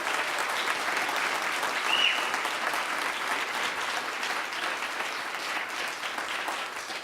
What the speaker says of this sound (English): Why don't you give them a big round of applause?